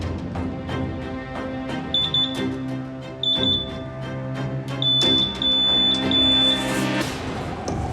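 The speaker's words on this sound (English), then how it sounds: "Looks like we've got an alarm for cocaine." A narcotics trace detector sounds an alarm for cocaine at a border security inspection, repeated high electronic beeps in short bursts over a busy background hum.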